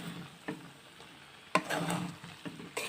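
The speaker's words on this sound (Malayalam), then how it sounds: "ഇതെല്ലാം കൂടെ ഒന്ന് നമുക്ക് മിക്സ് ചെയ്തെടുക്കാം" Masala pasta with melted cheese is stirred in a pan on the stove, a few quiet spoon scrapes and clinks spaced irregularly over faint background noise.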